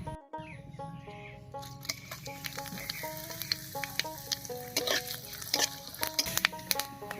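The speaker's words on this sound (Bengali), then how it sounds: "এবার এই তেলের মধ্যেই ফোড়ন দেব। আর ফোড়ন দেব হাফ চামচ পাঁচ ফোড়ন" Panch phoron, two dried red chillies and a bay leaf dropped into hot oil, crackling and sizzling close at hand with quick popping spatters that grow busier, without any talking.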